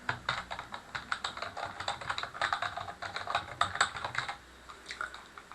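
Rapid typing on a computer keyboard, close-up with quick irregular bursts of key clicks and brief pauses between words, no voices.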